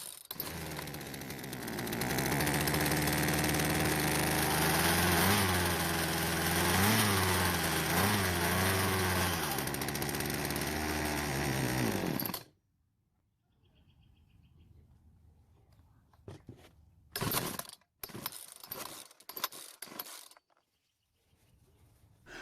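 A Poulan Predator chainsaw engine runs loud and close with a rough, wavering buzz for about twelve seconds, then cuts out abruptly, followed by quieter handling clatter and a few brief sputtering bursts.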